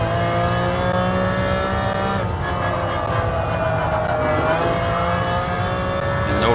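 A 1996 McLaren F1 GTR race car engine in the GT Sport racing game, loud and sustained at high revs, the pitch dipping as the throttle eases mid-clip, then climbing again.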